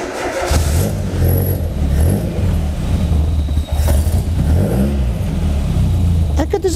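A turbocharged Hayabusa engine in a road-legal cup car runs nearby at a steady, loud idle with a low rumbling pulse and some carburettor-style induction noise, holding throughout with slight variation.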